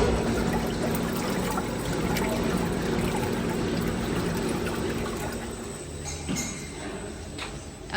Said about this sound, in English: next to the oil pot mixing, and use this inverter to change the speed of the mixing